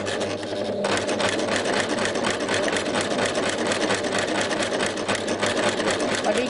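An overlock serger runs steadily, finishing an edge with knitting yarn: a fast, even mechanical rattle and hum that continues at constant speed throughout, close and loud, with a brief softer start.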